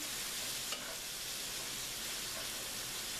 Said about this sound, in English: it seems like the shrimp is cooking a little too fast